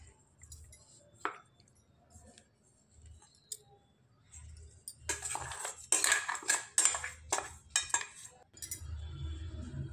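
Freshly ground sesame seeds are scraped out of a grinder into another vessel, with metal utensil clinks and clatters that start sparse, then become a busy run of close scraping and knocking in the second half, with no talk.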